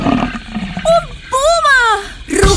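A singer's voice imitates a puma's roar in a children's song, with rising and falling growling roar calls between short sung phrases.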